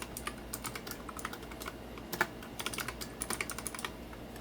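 Fast typing on a computer keyboard while entering a Windows registry value, a close, busy patter of key clicks with no one talking.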